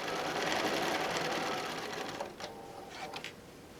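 A sewing machine runs steadily, stitching around a quilted cosmetic bag, with brief pauses and restarts near the end.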